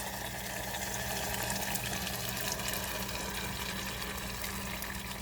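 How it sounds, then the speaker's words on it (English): Water runs steadily into a pot of red bean stew, a continuous close rushing, pouring sound with no talk. "I'm gonna put a little bit of water to take out that sauce and the rest of the beans"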